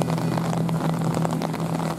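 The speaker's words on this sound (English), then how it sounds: "Look at that, it's raining." Evening rain falls on the Seine as a steady, fine hiss of pattering. A constant low engine drone runs underneath, close and unbroken for the whole short stretch.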